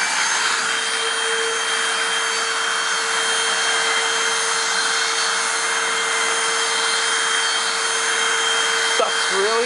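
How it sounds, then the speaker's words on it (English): A Hoover WindTunnel Anniversary Edition self-propelled upright vacuum (U6485900) runs with its air-turbine brush spinning, giving a loud, steady whirring drone with a constant whine, briefly changing just before the end. "just watch what happens when I hook it up. The brush starts spinning."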